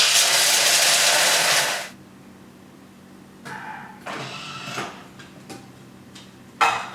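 A Thermomix on turbo setting chops French biscuits in a loud, dense whirring burst of about two seconds, then stops abruptly, followed by a few faint clatters and bumps.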